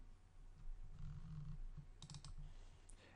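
Quiet computer keyboard typing and mouse clicking: soft, irregular taps and a few sharp clicks over a low hum, close by and without voices.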